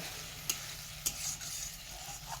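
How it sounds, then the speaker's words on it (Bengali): Potatoes being fried and stirred with ground chilli spice paste in a pan, a steady low sizzle with two sharp scraping knocks of a spoon against the pan, close and alone without talk. "তো এইদিকে দেখো মশলা দিয়ে কিন্তু আলুটাকে কষিয়ে নিচ্ছি"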